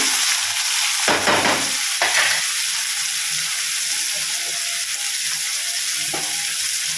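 Chopped tomato drops into onions frying golden brown in a pan for soya chunk gojju, setting off a steady close sizzle with louder hissing bursts as the pieces hit the hot oil.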